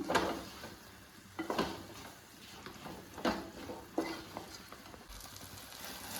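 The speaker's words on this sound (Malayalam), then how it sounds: "ഇനി ഇതിലേക്ക് വറുത്ത് വെച്ചിരിക്കുന്ന ചിക്കൻ ആഡ് ചെയ്യാം." Fried chicken is stirred into a frying masala for butter chicken, with several distinct scraping stirs over a faint, steady sizzle and no voices.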